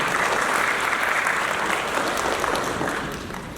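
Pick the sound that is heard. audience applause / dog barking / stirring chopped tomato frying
audience applause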